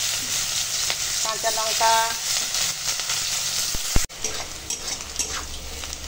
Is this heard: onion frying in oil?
yes